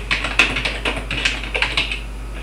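Computer keyboard typing up close, a quick string of light, sharp key clicks in an irregular rhythm over a low steady hum.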